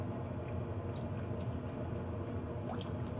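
Water runs and splashes steadily as a cold-blued part from a Cooey Model 60 rifle gets rinsed, a soft continuous wash with faint drips and no talking.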